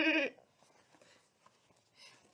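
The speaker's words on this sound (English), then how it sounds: "Can you make a sound like a goat?" A short, strained bleat at the very start, loud and close, then near silence with faint rustling and a soft noise near the end.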